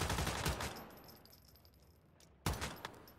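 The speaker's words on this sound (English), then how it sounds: "Now when I shoot the dummy and trigger shrapnel," An MG4 machine gun fires at a training dummy in Once Human in a short, fairly quiet burst of rapid shots, then goes silent, then fires a second burst.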